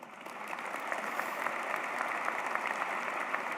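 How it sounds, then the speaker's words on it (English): Sustained audience applause fills a graduation ceremony, a dense, steady clapping from a large crowd at mid distance, continuous and unbroken without any voices over it. "give yourselves a round of applause"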